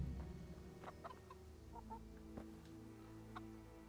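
Chickens cluck softly in the medieval game Kingdom Come: Deliverance, a few short scattered calls over a steady low ambient background, fairly faint and with no talking.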